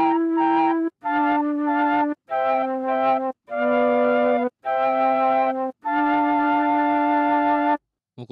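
Arturia Mellotron V software instrument playing a preset: sustained tape-replay chords sound in six separate held phrases with brief gaps between them, loud and clear with no talking.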